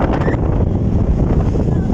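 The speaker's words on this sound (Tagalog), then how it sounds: "Kasi malakas yung hangin" Strong wind roars and buffets the microphone on a high lookout in Batangas, a loud continuous low rumble with gusty fluctuations throughout.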